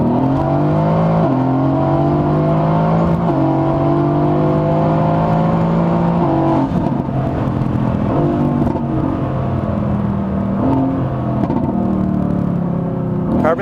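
A loud 716-horsepower 2017 Mercedes-AMG GT S coupe accelerating hard through several gear changes, its open exhaust roaring and rising in pitch with each gear, close and continuous.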